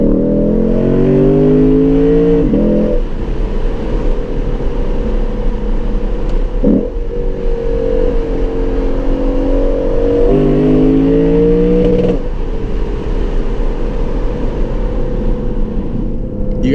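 Lexus RC F V8 engine revving hard in first gear in manual mode, rising to a loud roar that bangs against the rev limiter several times with choppy stutters, then a downshift, heard from inside the cabin.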